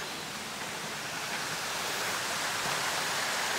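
A waterfall on a shallow creek in Central Park, New York City, gives a steady broadband rush of falling water, fairly close and continuous, slowly swelling a little louder.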